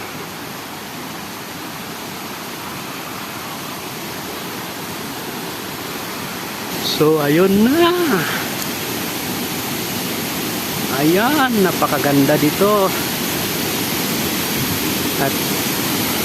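Constant rushing roar of a waterfall in Tanudan, Kalinga fills the scene, with a person talking briefly over it twice.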